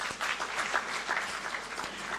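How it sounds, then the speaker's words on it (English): A conference audience claps steadily in sustained applause. "I think that deserves a clap."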